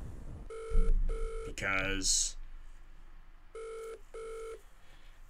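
A telephone is dialed for a phone-a-friend lifeline in a quiz game: a quick run of dialing tones and clicks, then two pairs of loud electronic rings, with a brief spoken word near the start.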